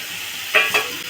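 Dried fish and slit green chilies frying in a pan, a steady sizzle with a couple of quick stirring scrapes close up.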